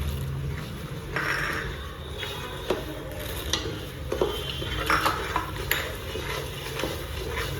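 Dry ingredients tumble into a pan off the heat for Gujarati winter adadiya: ground mace, then dry fruits, cashews and almonds, with scattered clinks and soft scraping against the metal and a low kitchen hum.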